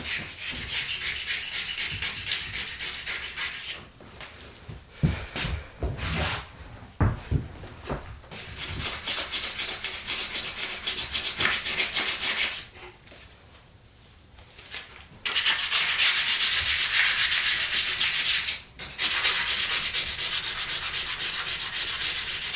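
A Honda Grom 12x8 wheel is hand sanded with 320 grit sandpaper, a loud, close, rasping scrub in long strokes broken by a few short pauses.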